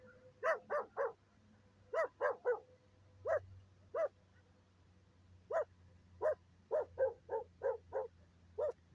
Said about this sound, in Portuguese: Calma aí, tem um cachorro aqui.